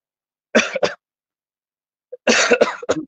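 Two close bursts of coughing, the first short and the second longer, separated by over a second of silence.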